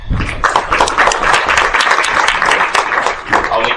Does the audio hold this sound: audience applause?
yes